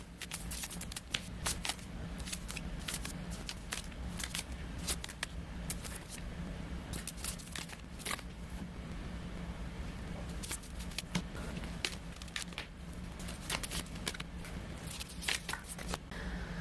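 Tarot cards drawn and handled one after another, a steady stream of close, crisp card flicks, slides and soft slaps over a low room hum, with no talking.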